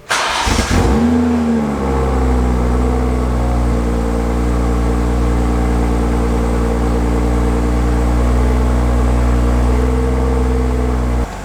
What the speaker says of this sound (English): I'm gonna start up the car, and I'm gonna let it warm up a little bit. You guys are gonna hear the exhaust.